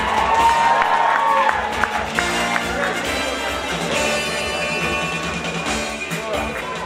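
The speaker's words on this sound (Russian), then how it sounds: "Аплодисменты ваши, друзья." An audience at a dance awards ceremony applauds and cheers loudly, with a continuous crowd roar and shouts under amplified music tones and some voices.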